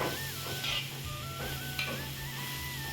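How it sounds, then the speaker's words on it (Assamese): Pork sizzles with crushed ginger and garlic in a dry wok, a steady close frying hiss broken by scraping stirs, with a faint tonal beeping in the background. "মই এনেকৈ অকণমানকৈ শুকান কেৰাহীতে ভাজি লৈছোঁ লগতে আদা নহৰু খুন্দি লোৱাখিনিও দি দিছোঁ"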